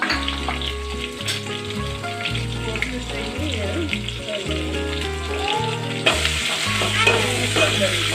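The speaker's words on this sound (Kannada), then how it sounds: "ಇವಾಗ ಒಂದು ಸ್ವಲ್ಪ ಎಣ್ಣೆ ಹಾಕ್ತಾಯಿದ್ದೀನಿ" Oil sizzles and fries in a wide pan while cooking idli sambar, with loud close frying, some stirring and clatter, and a few brief rises in the sizzle.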